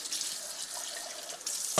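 Running tap water splashes steadily over juicer parts being rinsed at a sink, a continuous broadband hiss with a brief surge near the end.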